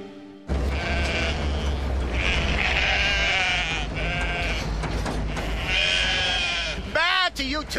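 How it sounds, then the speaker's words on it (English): Sheep bleating in a horror radio drama, a wavering, nasal bleat repeated over several seconds and mixed with voices talking throughout, ending in a sharp, quick bleat. "Bad to you too, you dumb sheep"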